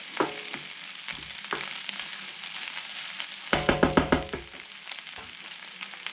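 Soy sauce sizzles and spits in a hot pan of nasi goreng, a steady frying hiss broken by bursts of stirring clatter and crackle, close and alone with no voices.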